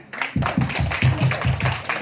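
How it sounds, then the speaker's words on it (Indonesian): A classroom group applauds a presenting group of students in a peer-teaching session, a short burst of clustered hand claps with steady rhythm, fairly close and alone without talk. "Beri tepuk tangan."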